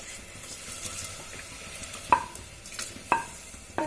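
A spoon stirs hot-and-sour chicken soup in a pot as stock is poured in, with a soft continuous swirl and sizzle and a few sharp clinks of the utensil against the pot rim.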